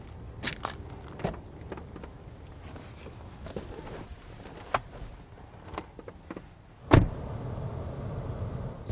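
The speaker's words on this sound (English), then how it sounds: "what we're going to do is have our bike on the rack here we're going to take our vehicle out for a spin" A vehicle with a bike carried on a Curt hitch receiver adapter rack drives along, with a low road rumble, scattered knocks and rattles, and one sharp clunk near the end.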